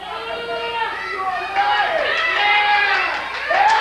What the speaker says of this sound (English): the fans cheering him on